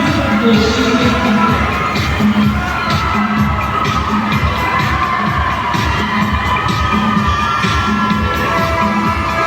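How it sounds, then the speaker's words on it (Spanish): A large crowd cheering and shouting continuously and loudly, with excited whoops and a dense roar of voices throughout, at a Kuya Raymi festival ñusta election. "¡Fuerte el aplauso!"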